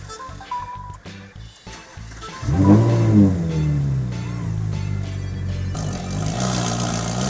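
A rally car at the first One Life Rally in Kenya starts up with a key, its engine catching with a loud burst and then running in a steady, rising rev, close by with no talking.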